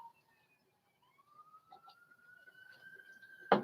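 A siren wails with a long rising tone, fairly faint and distant, ending in a sudden loud burst of noise.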